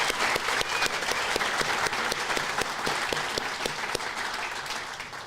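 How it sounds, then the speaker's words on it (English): An audience at a steel-casting awards ceremony gives a big round of applause, with distinct individual claps popping above a sustained wash of clapping that tapers slightly toward the end. "So let's give Andrew one more big round of applause."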